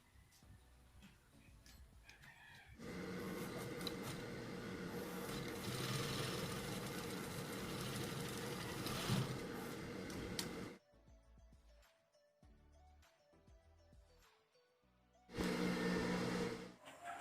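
A sewing machine stitches a plain seam in fabric, running as a steady close whir for several seconds, stopping briefly, then starting again for a final short run.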